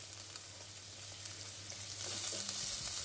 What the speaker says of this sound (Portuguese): Deixa aqui amolecer um pouquinho também a cebola com o alho